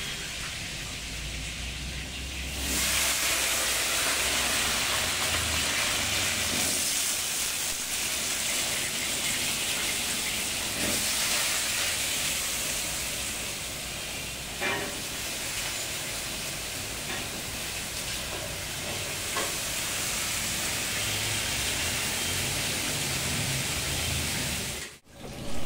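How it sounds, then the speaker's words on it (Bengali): Potatoes for a meat curry fry in a large pot of oil, a loud, dense, continuous sizzle like heavy rain that holds steady for the whole stretch, close by and with no speech. "এইদিকে আমি মাংসের আলুগুলো ভেজে নিচ্ছি।"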